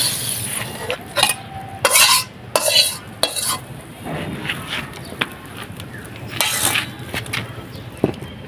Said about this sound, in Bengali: তরকারি হয়ে গেছে, এখন আমি বাটিতে ঢেলে দেবো।